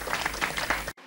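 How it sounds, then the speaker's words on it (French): An audience applauds in a crowded room, with a dense, steady patter of clapping up close that stops abruptly near the end. "on l'applaudit."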